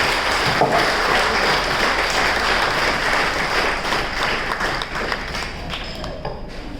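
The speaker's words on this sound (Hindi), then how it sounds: "आप सब अपने लिए एक बार जोरदार तालियां हो जाए" A roomful of people at a business training session applauding loudly and continuously, a dense wash of clapping that holds steady and then tapers slightly at the end.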